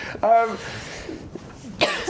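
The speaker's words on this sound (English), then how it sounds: "She's giggling, coughing." A woman lets out a short cough mixed with a giggle, close and brief, with a second burst of breathy laughter a moment later, amid ongoing talk.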